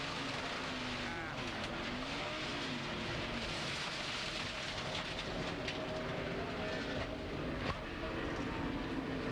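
Onboard a Kurt Busch stock car during the 2003 Ford 400 at Homestead, the engine drones loudly and continuously with rattling, scraping noise from hitting the inside wall, a faint voice underneath.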